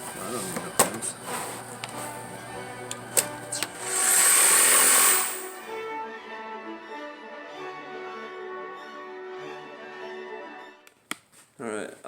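A power saw rips through a sheet of wood in one loud, roughly one-second burst, close by, surrounded by handling knocks and clatter, with a person talking before and after the cut.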